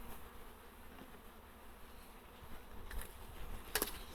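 Honeybees hum around an open Dadant hive in a soft, steady, low buzz. Near the end come a few brief handling clicks.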